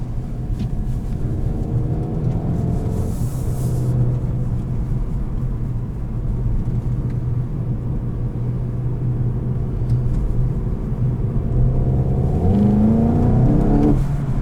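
A 2021 Volkswagen Golf GTI with a DSG gearbox cruises slowly around a lot, its engine a steady low rumble with mild revving and rising whine near the end, heard from inside the cabin with no talk.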